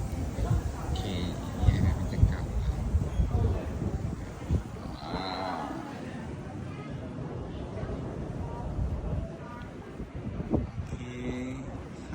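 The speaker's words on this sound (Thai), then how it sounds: "โอ้โหลมแรงมากครับ" Strong night wind gusts outdoors beside a restaurant in Japan, a continuous low buffeting roar across the whole stretch with brief faint voices in the mix.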